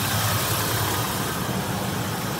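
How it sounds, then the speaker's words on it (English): A 2000 Ford F-250's 5.4-liter Triton V8 runs at a steady, even idle, with a continuous low rumble heard up close and no talking. "Good running solid engine, as you can tell."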